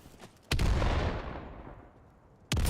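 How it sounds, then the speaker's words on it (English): A grenade goes off in a tactical shooter match on the Manor House map, a sudden loud blast that rumbles and fades over about two seconds before a second sharp burst cuts in at the end. "Good nade coming in."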